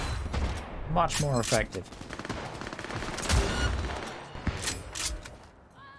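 Gunfire in the video game Cyberpunk 2077, with repeated bursts of rapid automatic shots and heavier blasts across the clip, loud and close, mixed with in-game voices talking.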